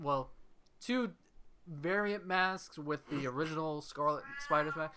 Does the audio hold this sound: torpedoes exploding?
no